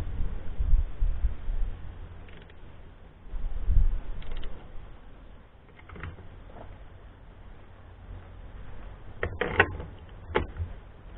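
Metal tool work on a Kawasaki GPZ 500 motorcycle with a torque wrench, a few faint ratcheting clicks and metallic knocks close by, with sparse sharp taps toward the end and low handling thumps.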